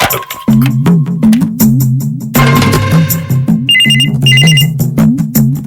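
A telephone rings loudly and persistently, a rhythmic repeating electronic ring tone with a burst of noise and higher chiming tones partway through, no voices.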